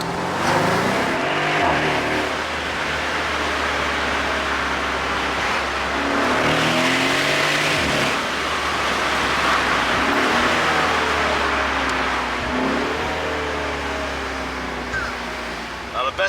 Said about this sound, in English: a twin turbo V8 is nothing to be ashamed of, especially when it drives like this